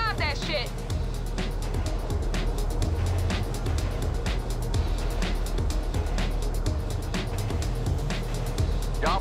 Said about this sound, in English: What the hell is that sound, y'all? What raggedy-ass car y'all driving?